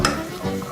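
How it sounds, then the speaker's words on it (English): Turmeric rice being stirred in a pot, a brief close scrape of the spoon with a soft sizzling wash behind it. "So we're going to stir this"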